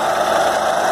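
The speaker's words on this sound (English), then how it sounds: "so I figured let's use the stump grinder and cut it" A stump grinder runs steadily while cutting through oak, a loud continuous high-pitched engine whine and grinding buzz with no voices.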